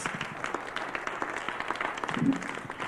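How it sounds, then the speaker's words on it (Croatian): Applause from a seated audience at a talk, a steady wash of many hands clapping for about three seconds, moderately loud and unbroken. "Please, an applause."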